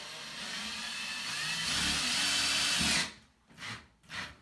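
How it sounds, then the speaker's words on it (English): A power drill drilling into a bathroom wall for a drywall anchor whines steadily at high speed for a few seconds, then stops, followed by two short bursts of the motor spinning up. "put the drywall anchor right where the mark is and drill it right into the wall"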